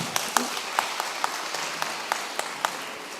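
A church audience at an Indian Christian Day gathering claps in sparse, scattered bursts, a handful of separate hand claps spread through a faint, moderately distant wash of applause.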